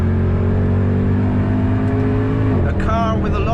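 A Mercedes W204 C63 engine at full throttle on the Nordschleife, a loud, steady drone holding strong under load for about two and a half seconds before easing off near the end.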